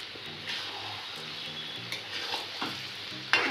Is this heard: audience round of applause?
no